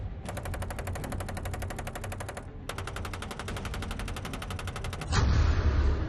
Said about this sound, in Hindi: पैंतालीस साल बाद गोली की गूंज।